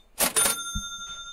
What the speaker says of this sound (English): Let me hit that cha-ching button for him.